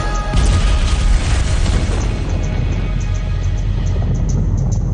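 TNT charge detonated below a cliff top, a loud, heavy boom rolling into a long, dense rumble of debris and echo that slowly fades over several seconds, heard from a distance with no talk.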